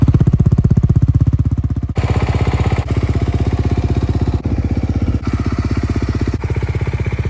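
A 2023 Honda CRF250R converted into a three-wheeled trike, its engine running with a loud, rapid, steady putter close by and brief dips in rhythm as the throttle changes, with no talking.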